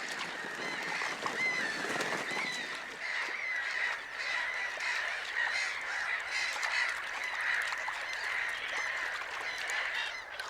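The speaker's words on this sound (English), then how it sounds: "black-headed gulls" A flock of black-headed gulls calls over a Polish marsh carpeted with marsh marigolds, with harsh, overlapping squawks and cries forming a continuous, busy chorus at moderate distance.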